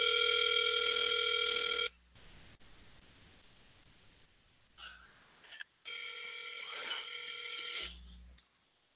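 A telephone rings on an unanswered outgoing call, with a loud electronic ringback tone sounding in two long bursts separated by a quiet gap with faint rustles.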